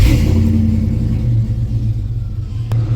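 A GM truck engine from the 1999–2006 era idles after being started, a close, steady low rumble with slight revving swells and no talk over it.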